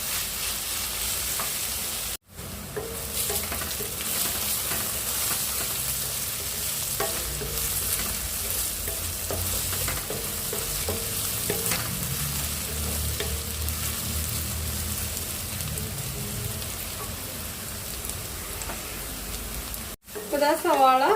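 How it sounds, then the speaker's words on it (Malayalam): Onions sautéing in oil in a pan for Kerala egg roast, a soft continuous sizzle with intermittent stirring scrapes, fairly quiet and close, with brief cuts near the start and end. "ഇതാ സവാള നന്നായിട്ട് വഴന്നു വന്നിട്ടുണ്ട്"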